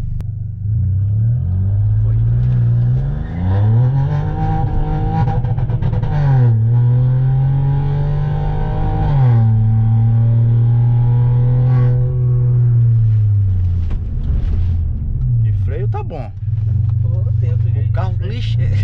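A VW Polo Highline STG3 with traction control off launches hard on ethanol-heavy fuel, its engine roaring up through rising revs and bouncing off the rev limiter, loud and close with an aggressive, sustained note from start to finish.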